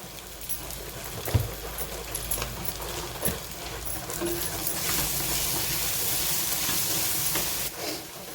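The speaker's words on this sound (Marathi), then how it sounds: "आता याच्यामध्ये आपण ही तोंडी चिरून घातली घेतलेली आहे ती घालत आहोत" Chopped tondli (ivy gourd) drops into a hot pan with turmeric, asafoetida and salt, giving a steady close sizzle with stirring scrapes and a few sharp knocks, no talking.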